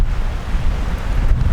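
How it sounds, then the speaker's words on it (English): Steady wind gusts buffet the microphone at a mountain riverside campsite, a continuous low rumbling roar with no talking. "It's a little bit windy though."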